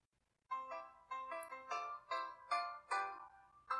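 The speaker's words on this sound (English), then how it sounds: "My phone is right now making a sound." A phone rings remotely via a Google account's locate feature, playing a repeating melodic tone pattern in regular bursts after a brief silence, moderately clear and heard alone.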